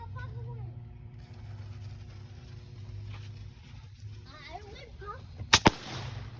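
Firecrackers set off outdoors on Memorial Day, two sharp loud pops close together near the end over a low background rumble, with faint voices earlier.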